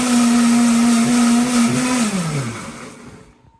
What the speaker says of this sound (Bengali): আগে আমরা আদা রসুন পেঁয়াজ ব্লেন্ডার করছি।